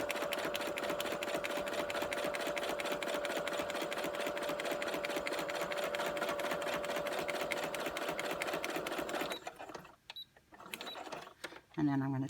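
A sewing machine runs in a steady fast rhythmic whir of stitching for about nine seconds, then stops, leaving a few clicks and handling noises.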